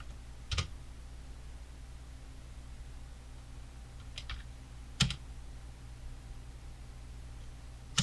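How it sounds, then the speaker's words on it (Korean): Home key and spacebar pressed on a computer keyboard while editing text effects in After Effects, a few isolated sharp clicks spaced seconds apart over a quiet steady hum. "홈키 누르고 스페이스바,"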